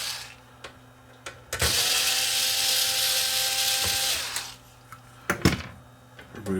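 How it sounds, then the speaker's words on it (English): A small power screwdriver or drill whirs steadily for a few seconds while backing out screws from a head shield, framed by faint clicks and handling taps, close and fairly quiet. "on the head shield, remove these 2 screws."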